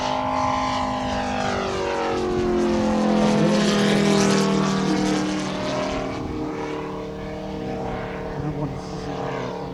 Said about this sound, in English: In this particular case, Andreas is actually flying the scale prop that is also offered by Craft Models.